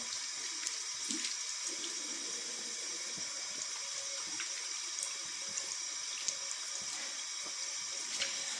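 Water from a tap runs steadily over skin, rinsing off a homemade macadamia oil and orange exfoliating soap; a continuous soft splashing hiss with no talk.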